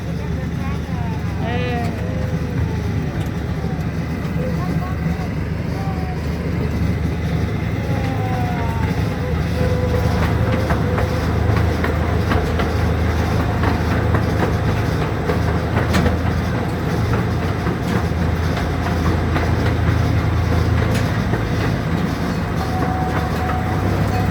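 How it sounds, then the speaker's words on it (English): A miniature zoo train rumbles steadily through a tunnel with a constant low roar and faint rail clatter, continuous and fairly loud throughout, with a voice speaking briefly near the start. "here we are coming to our train tunnel"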